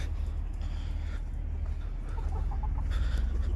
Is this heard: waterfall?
no